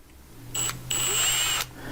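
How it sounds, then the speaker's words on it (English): A Milwaukee drill bores into wood in two bursts, a brief whine and then a longer sustained high-pitched run, close and fairly loud with quiet between. "I'll just pick a bit that's pretty close to the screw size. Drill that one in."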